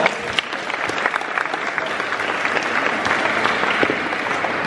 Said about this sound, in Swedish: Ha en applåd!